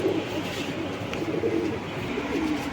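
Allahabadi pigeons coo in soft, repeated throaty murmurs, close by, over a low background hum, in Wadala East, Mumbai.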